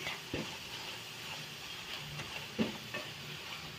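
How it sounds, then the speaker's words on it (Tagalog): Bihon rice noodles (pansit) are stirred in a hot pan with a soft, continuous sizzle and hiss, broken by a few spatula scrapes and knocks against the pan. "Ihalo ko sa aking pansit."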